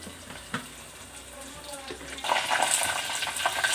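Chillies hit hot oil in a clay pot, starting with faint clinks, then a bright crackling sizzle that rises and keeps going.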